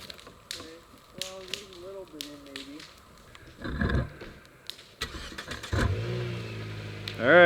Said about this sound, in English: We're going to pull her down with the Yaris.